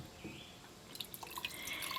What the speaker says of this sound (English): Just pour a little bit more.